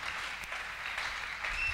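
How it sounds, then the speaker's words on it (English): A church congregation claps in a faint, steady wash of applause, quiet and distant throughout the short stretch. "Clap your hand for Jesus Christ."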